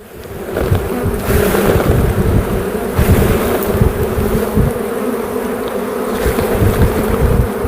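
Loud, dense buzzing of many bees around a hive, constant and close, with some rumbling wind noise on the microphone.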